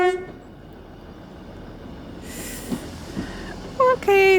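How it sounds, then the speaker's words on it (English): A train approaches a little-used rural station in Scotland, its low rumble building steadily before two loud, close horn beeps sound near the end. "I can hear the train coming. It's beeping."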